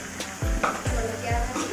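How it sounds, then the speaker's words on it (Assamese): Jolokia chillies fry in a hot pan in a home kitchen, giving a short burst of close sizzling with a few stirring scrapes and swishes. "জলকীয়া ভাজি।"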